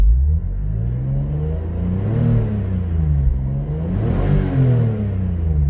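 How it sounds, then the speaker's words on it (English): A 2000 BMW Z3 M engine revs twice with a warm, smooth rise and fall in pitch, held close and loud with steady exhaust rumble between the blips. "I'll give it a couple revs to hear how smooth this engine is"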